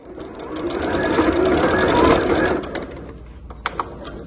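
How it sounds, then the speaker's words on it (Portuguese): A sewing machine backstitches to finish a seam on fabric for a multipurpose drawstring bag, giving a steady, close mechanical whir for about two and a half seconds before it stops, followed by a few faint handling clicks. "E aqui também vou finalizar com retrocesso."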